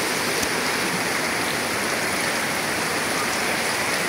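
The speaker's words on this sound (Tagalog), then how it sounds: "Grabe na ang baha, oh." Floodwater rushing in a swollen, overflowing stream, a dense, loud, continuous roar of water with no breaks and no voices.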